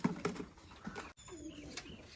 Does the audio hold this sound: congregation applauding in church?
no